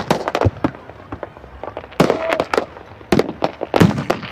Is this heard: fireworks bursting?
yes